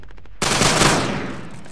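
A squad of soldiers from the 29th Infantry Division opens fire on command during a platoon competition, a sudden loud burst of overlapping rifle shots that erupts at once and rings out in a decaying roar.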